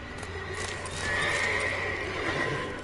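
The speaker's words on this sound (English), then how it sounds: "Dude, we got horses going crazy." Horses in the video game The Witcher 3 whinny loudly in a drawn-out, high neigh over a steady background din, with faint hoof clatter.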